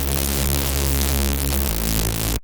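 An unprocessed reese bass synth drones raw and buzzy, dense and loud with no other sound, stepping down in pitch once before cutting off suddenly.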